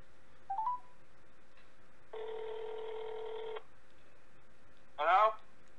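A telephone dials out, with a short tone, then a sustained ringback tone, followed by a brief voice burst as the call connects, under quiet room noise.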